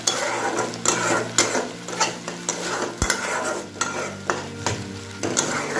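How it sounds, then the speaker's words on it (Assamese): Spices with turmeric and salt are stirred in a frying pan while cooking pumpkin flowers, loud close sizzling with repeated scraping strokes of the spoon against the pan and one sharp knock midway, no talking. "তাৰপিছত আকৌ ভালদৰে লৰাই পেলাই"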